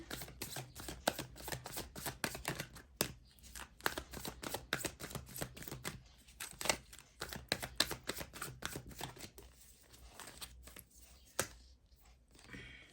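Tarot cards are shuffled and drawn in quick, soft riffling bursts that come in a close, quiet flurry of papery clicks, then thin out.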